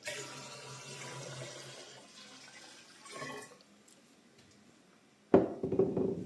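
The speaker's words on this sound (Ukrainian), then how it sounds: "Леємо воду в спірт." Water is poured into spirit while making gin by direct distillation, a sudden close gush of liquid filling a container after quieter handling sounds.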